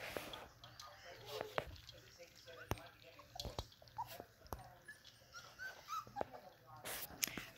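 Puppies whimper and yelp at dinnertime, giving faint, scattered high cries and soft clicks with some drips, and a quiet voice now and then.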